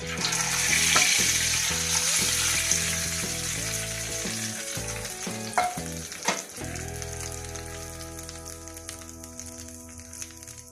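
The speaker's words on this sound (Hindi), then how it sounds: "इसके ऊपर मैं तड़का लगाती हूँ" Loud hissing sizzle of tempering spices hitting hot oil over masoor dal, bursting at first, then easing into a steadier crackle with a few clinks of stirring.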